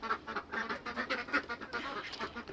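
A group of domestic ducks quacks continuously and loudly together, a dense overlapping chorus of nasal calls close by, with no talking.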